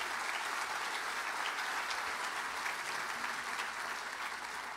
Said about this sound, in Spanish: So you should give yourself a clap for that.